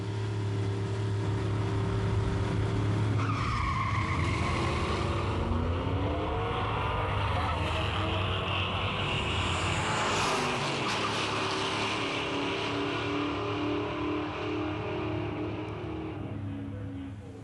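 A 1955 Chevy Bel Air drag races a Nova at a 1992 muscle car drag meet; loud engines roar steadily throughout, with revs climbing and sweeping through gear changes before easing slightly at the end.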